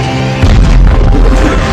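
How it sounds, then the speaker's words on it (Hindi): Black-powder arrows explode in the film The Great Wall: a loud, deep, rumbling blast swells in and sustains as a dense roar with no voices over it. "तीर में मौजूद काला पाउडर से जोर का धमाका हुआ"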